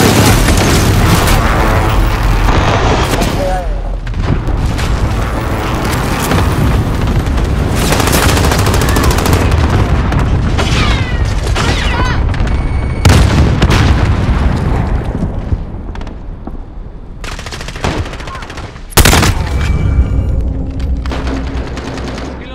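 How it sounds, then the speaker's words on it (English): Cluster airstrike in the Modern Warfare video game: booming explosions and rattling gunfire fill a loud, dense stretch, with several heavy blasts standing out and voices occasionally heard beneath. "Enemy cluster strike incoming!"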